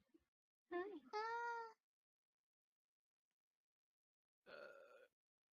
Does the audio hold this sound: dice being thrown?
no